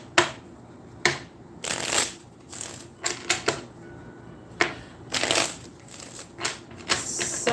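A deck of tarot cards shuffled in repeated riffles and bursts, crisp close rustles and flicks recurring every second or so with brief pauses between.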